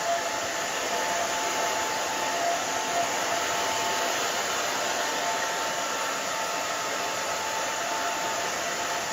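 A hair dryer blows steadily on short pixie-cut hair, a loud, close, continuous whoosh with no breaks or talk over it.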